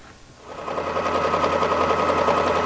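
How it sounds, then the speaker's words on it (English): A sewing machine stitches fabric panels for a designer ottoman, starting up after a brief pause and then running steadily with a loud, close, continuous mechanical whir. "We're going to sew them."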